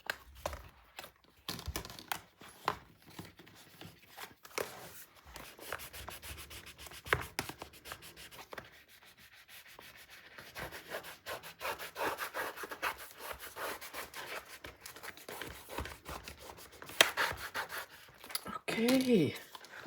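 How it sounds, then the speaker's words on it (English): Burnishing paper onto a 9 x 9 mini album page, soft repeated rubbing and scraping strokes, close and faint, with brief bursts of speech mixed in. "Okay, let's burnish and we're done."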